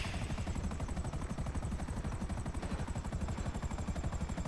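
A helicopter in a GTA roleplay video game thumps with a fast, steady rotor chop, loud and close, with no voices.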